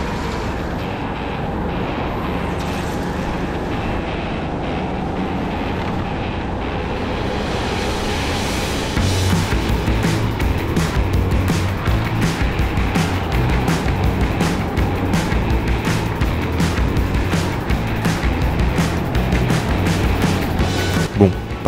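Racing kart engine in an endurance race, pulling away from the pits: a steady, loud buzzing motor drone that rises and grows rougher around halfway, revving continuously with no talking.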